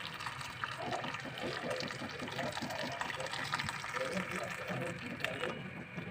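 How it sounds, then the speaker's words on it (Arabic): Boiling water poured over fava beans in a pot, a steady gushing, splashing flow that runs the whole time beneath a person speaking. "هنجيب الميه المغليه، الميه المغليه اهي، بسم الله الرحمن الرحيم. وهنغطي الفول."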